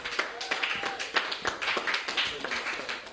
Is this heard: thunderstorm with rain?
no